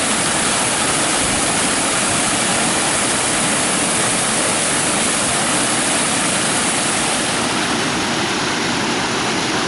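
A small river flows beside a covered bridge and mill in Bridgeton, Indiana, giving a loud, continuous broadband rush of water that stays steady throughout, close and unbroken, with no voices.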